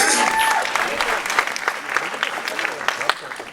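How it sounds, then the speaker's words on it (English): A studio audience claps for boxer Floyd Mayweather's undefeated record, with a dense, sustained round of applause and voices talking and calling out over it. "You guys can clap for that."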